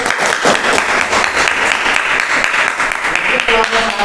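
Close, loud applause fills a classroom as students clap steadily for a presenting group, a dense patter of hands with no pause from start to finish, and voices mixed faintly into the clapping.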